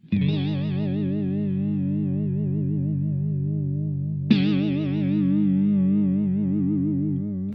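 An electric guitar chord through a Walrus Audio Julianna chorus pedal at full depth rings out with a deep, warbling chorus wobble, then is struck again and keeps shimmering with heavy pitch modulation.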